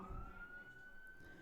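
An ambulance siren wails on a steady, slowly rising tone through a low rumble of background noise at a baseball game, sounding some distance away.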